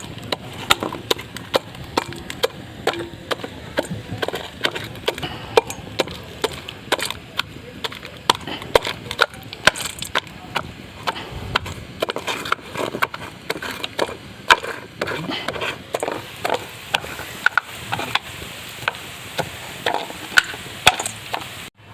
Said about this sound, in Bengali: এইভাবে বাদামগুলোকে একটু ভেঙে নেবেন।